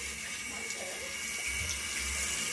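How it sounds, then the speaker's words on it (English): A water tap runs steadily at a sink as hands are washed, a constant close hiss of flowing water lasting throughout. "You should wash your hands, I guess."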